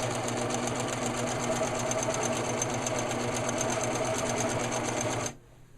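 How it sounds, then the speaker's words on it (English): A sewing machine stitches tree tent fabric in one steady, fast, even run of needle strokes at close range, then stops abruptly near the end, with no voices over it. "as I'm feeding into the sewing machine"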